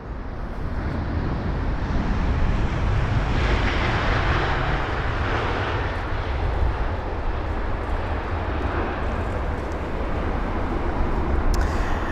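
A Qatar Airways Airbus A350-900 arriving at London Heathrow on a windy day: a loud, sustained jet engine roar that holds steady throughout, with wind noise mixed in.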